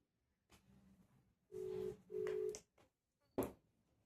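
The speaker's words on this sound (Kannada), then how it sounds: "ತಮ್ಮಗೆ ಫೋನ್ ಮಾಡ್ತಿದ್ದೀನಿ." A phone call being placed from an iPhone to a younger brother, heard as a few short electronic beeps and tones at a moderate level, with quiet pauses between them.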